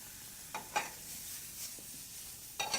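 Onion and cumin seed cook in a pan with a quiet steady sizzle, broken by a few sharp scrapes and clinks of stirring near the start and end.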